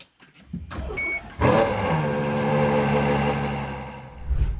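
Ferrari V12, from a GTC4 Lusso or 812 Superfast, starts after a brief whirring starter, then catches with a loud bark that settles into a steady, rich idle close by, with a slight blip at the end.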